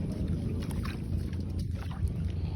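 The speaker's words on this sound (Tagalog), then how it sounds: "dito na pala ako sa bangka. Paalis na kami ngayon." Small boat underway as a family sets off on a trip, with a steady engine-and-water rumble and wind noise running evenly throughout, fairly close and continuous, no voices.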